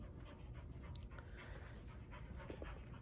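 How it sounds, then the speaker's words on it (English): A dog pants in quick, steady rhythm close by, soft and continuous over a quiet background with no talking. "This is my dog Izzy."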